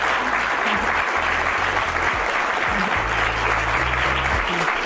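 An audience claps for a psychology professor in a dense, steady wash of applause lasting throughout, with a low hum running underneath.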